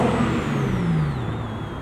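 A 1999-2004 Porsche 996 Carrera fitted with a Fabspeed full exhaust system, heard from inside the cabin, gives a loud, continuous engine drone whose pitch gradually falls as it pulls along.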